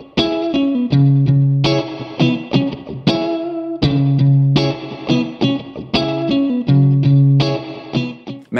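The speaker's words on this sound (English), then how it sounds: "it makes for the most expressive reverb tones you've ever had" An electric guitar plays loud, sustained chords and phrases through a TC Electronic Hall of Fame 2 X4 reverb pedal, the notes ringing out into lush, modulated reverb tails between strums.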